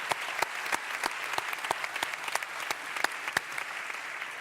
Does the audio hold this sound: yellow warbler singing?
no